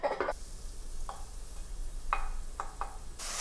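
Leeks caramelizing in a hot pan are stirred, giving a few short scraping strokes over a steady low sizzle, with a brighter hiss swelling at the end.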